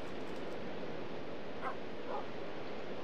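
Dogs in the game Minecraft giving a couple of short, faint yips and barks over a steady hiss of background noise.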